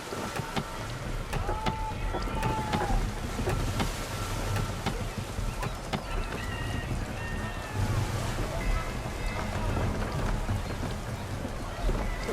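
A sailing ship running under full sail in Assassin's Creed III, with a steady broadband rush of water and wind around the hull, waves sloshing and wooden creaks, continuous and fairly loud throughout, with voices shouting over it.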